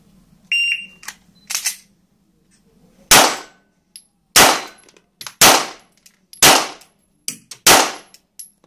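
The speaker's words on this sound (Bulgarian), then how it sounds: "По звуков сигнал, вадене, зареждане, пет изстрела." An electronic start beep and metallic drawing and loading clicks, then five loud pistol shots fired about a second apart, each ringing out sharply, at a shooting competition in Sofia, Bulgaria.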